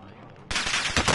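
A single loud gunshot in a shooting video game, starting abruptly and followed by a brief bright, noisy burst and tail.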